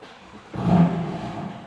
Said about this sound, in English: the car's got rough idle, it's got no fuel